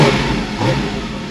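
A Porsche Cayman GT4 RS engine revs quickly and loudly up close, the pitch climbing and falling in quick succession.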